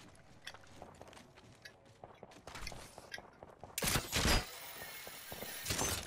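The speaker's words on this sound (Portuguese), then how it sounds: "Tá ouvindo esse tiro?" Sharp gunshot cracks from the video game Apex Legends pop repeatedly, some distant and faint, then a louder burst of firing near the end, with scattered clicks and steps between.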